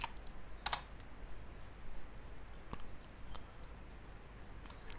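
A password being typed on a computer keyboard, with soft, quick key clicks over a steady background hiss and one sharper burst of taps early on.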